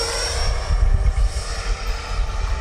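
An RC model F-22 Raptor jet with its landing gear down flies past, giving a steady, loud rushing engine roar with low rumble that stays fairly constant throughout, and nobody speaks.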